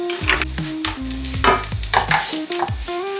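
Smashed garlic toasts slowly in olive oil in a pan over a low flame, a steady close sizzle with stirring knocks and scrapes running throughout.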